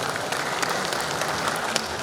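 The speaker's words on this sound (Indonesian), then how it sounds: "Tepuk tangan buat beliau." A crowd claps steadily in a large room, a continuous patter of many hands at moderate volume.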